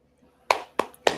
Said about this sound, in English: Can we get an applause on that one?